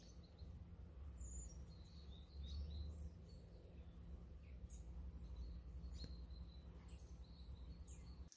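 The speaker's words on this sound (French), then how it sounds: "On entend les oiseaux." Faint birdsong with scattered chirps and short trills over a low steady background hum, quiet and somewhat distant.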